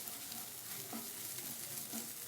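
Egg and other ingredients frying in a pan, a constant quiet hiss of oil with a few soft stirring scrapes, close and faint, no voices.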